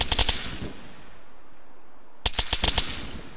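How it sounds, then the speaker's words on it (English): Two loud bursts of automatic rifle fire from an Arma 3 military simulation firefight, a rapid rattling volley at the start and another after a near-silent gap of about a second and a half. "Fucking automatic fire"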